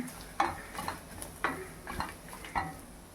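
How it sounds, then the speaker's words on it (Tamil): Dried red chilies and grated coconut roasting in a pan, with a soft dry sizzle under regular spatula scrapes that come about once every half second, close and fairly quiet. "மிளகாவும் தேங்காவும் நல்லா வறுந்துருச்சுங்க"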